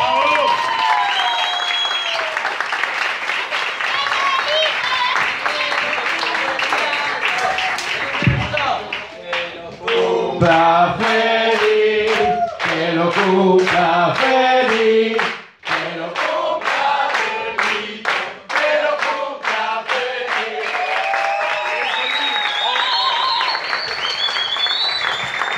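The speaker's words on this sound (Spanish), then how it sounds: "Fuerte el aplauso para él." A theater audience applauds a guest at a stage performance, steady loud clapping running throughout, with rhythmic accented claps and some cheering mixed into the crowd noise.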